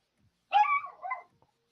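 A dog gives a single drawn-out, high whimpering yelp with a falling, wavering tone, fairly faint and alone against silence.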